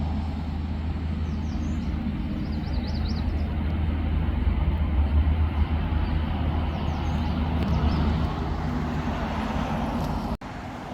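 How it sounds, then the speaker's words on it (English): Traffic on a busy road rumbles past continuously, a steady broad wash of engine and tyre noise with a brief thump near the end and no talk. "This one's on another busy road, so if you can't hear me"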